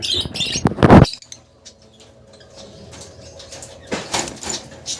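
Caged African lovebirds flutter and scrabble loudly up close, then give sparse clicks and soft chirps, with a further rustle of wings near the end.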